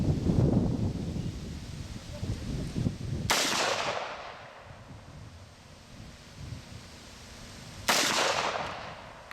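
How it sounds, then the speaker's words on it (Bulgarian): Two single gunshots at an outdoor shooting range, each a sharp, loud crack with a long rolling echo, several seconds apart, over wind noise. "Стрелбата завършил, Венелинов Борис."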